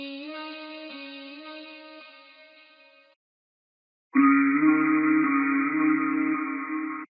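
Pitched-up RnB vocal chop, halftimed and run through reverb and a flanger, plays as a sustained, shimmering, breathy tone that fades out, then after a second of silence returns louder and brighter with a wavering, swirling sheen.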